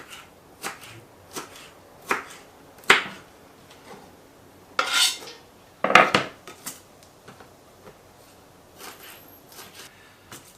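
A knife finely chops bell pepper on a board, a series of sharp, close, irregular knocks and slices spaced apart, with a couple of louder scraping clusters among them.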